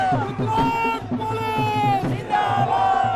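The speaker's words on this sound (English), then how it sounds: "the crowd erupts" A large crowd in a prison courtyard erupts in loud, continuous cheering and chanting as a released police officer walks out of jail, voices massed together in a dense, rally-like roar with no pause.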